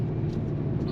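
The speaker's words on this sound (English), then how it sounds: "You can instantly hear the engine go and the exhaust go." Engine and exhaust of a 2019 Audi RS5 Sportback switched into dynamic mode, a steady close rumble heard briefly with no voices.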